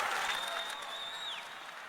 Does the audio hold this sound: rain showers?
no